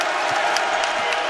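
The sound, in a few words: basketball crowd cheering at Littlejohn Coliseum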